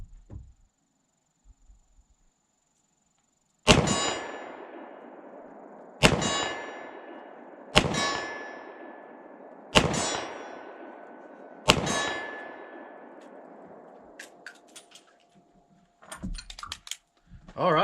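Five evenly spaced shots from a Ruger LCR .357 Magnum revolver, each followed by a loud, ringing clang from a steel plate at 25 yards that decays over about two seconds, with brief rustling afterward.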